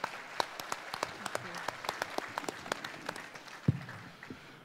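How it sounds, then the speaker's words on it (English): Sparse applause at a conference session for the panelists, with distinct individual claps ringing out over a quiet room and one louder knock near the end. "please give a round of applause for our fantastic panelists today"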